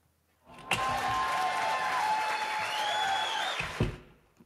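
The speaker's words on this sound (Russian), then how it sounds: "а там люди аплодируют" Steady audience applause at a KVN comedy show swells in abruptly, holds at an even level for about three seconds with a few sharper bangs near the start and end, then cuts off.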